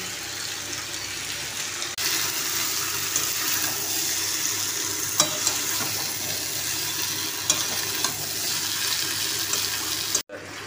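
Potatoes and meat being stir-fried together in a pan for kosha give a steady soft sizzle with scraping stirs, a couple of sharp clinks and a brief dropout near the end.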